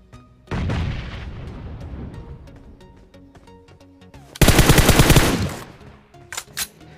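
Grenade explosions in the BGMI battle royale mobile game: a loud blast, a stretch of quieter rumbling, then a second, heavier burst full of rapid crackling pulses, followed by a few sharp distant pops.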